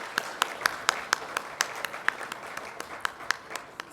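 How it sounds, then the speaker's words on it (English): An audience at an awards event claps for an absent award winner, a thin, moderately distant round of applause with a few sharp individual claps standing out. "but a round of applause for Vijay"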